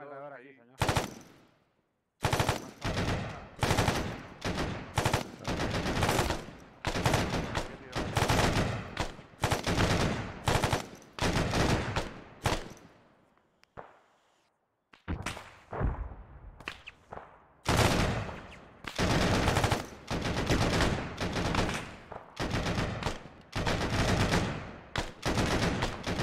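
Machine gun fire in the military video game ArmA 3: rapid, loud automatic bursts repeat many times, with brief pauses and one longer gap partway through.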